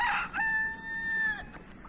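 A desi rooster on a poultry farm gives a single drawn-out crow, near and clear, with a few faint clucks and ticks from the flock after it fades.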